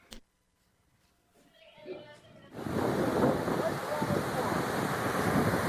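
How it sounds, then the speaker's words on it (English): Water rushing out of a dam into the Mojave drainage at roughly 12,000 CFS, heard as a loud, steady broadband roar that starts suddenly after a few quiet seconds with faint sounds, then holds constant and close. "this is a shot of water coming out of the dam."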